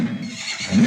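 A horse whinnies in a single short, strained neigh, loud and close, with no other sounds around it.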